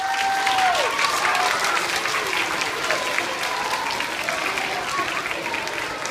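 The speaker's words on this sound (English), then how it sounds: "Everybody give them a round of applause." Audience clapping after a school play, a steady burst of applause from a crowd lasting several seconds, with a brief whistle-like tone at the start.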